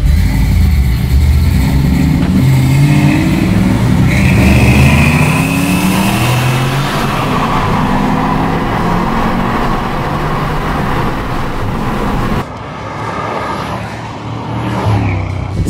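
A Ford Mustang with a 4.6 V8 and manual gearbox revs and accelerates loudly up close in a drag race, rising in pitch through gear changes before easing off near the end.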